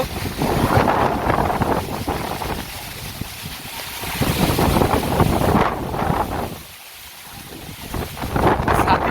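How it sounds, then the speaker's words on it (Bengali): Strong wind buffets the microphone in loud, continuous gusts over flood-swollen land and water, dropping away briefly before surging back hard. "এই যে দেখেন প্রচুর বাতাস সেই সাথে একদম এই যে চারদিক পানিতে প্লাবিত"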